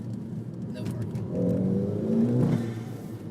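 2007 VW GTI with a catless aftermarket downpipe giving a short, moderate rev that builds and holds for about a second before easing off, heard from nearby at low volume.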